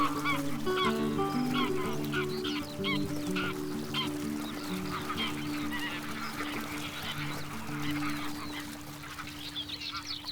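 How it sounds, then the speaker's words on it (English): A flock of greylag geese honking continuously at a German lake, many overlapping calls at moderate distance, loud and steady throughout. "especially for grey geese."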